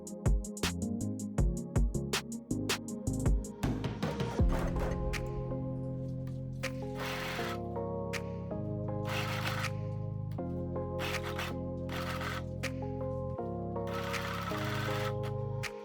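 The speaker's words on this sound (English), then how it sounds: "Sew the pieces together using an overlock." An overlock sewing machine stitches a knitwear neckline: quick bursts of rapid needle chatter come first, then longer steady runs of mechanical whirring separated by short pauses, close and clear.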